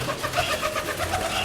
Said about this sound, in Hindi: ये कबूतर था